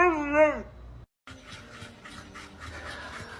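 A chihuahua gives a short, tonal whining vocalization up close, followed after a brief gap by rustling and scuffling sounds in a room.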